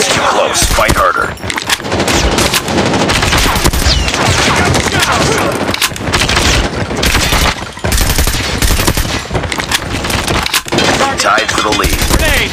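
Dense, loud automatic gunfire from the Call of Duty video game hammers almost without pause, layered with game sounds and faint voice callouts.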